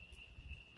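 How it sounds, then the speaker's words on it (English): Crickets chirp at night in a steady, high, continuous trill, close and fairly quiet, with faint low rumble beneath and no voices. "crickets going"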